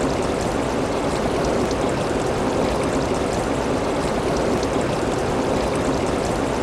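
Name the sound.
water flowing between stones from mountain springs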